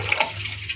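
Running water pours steadily over freshly chopped garlic and mint being rinsed for mint chutney, a brief, close, continuous splashing wash with no talk.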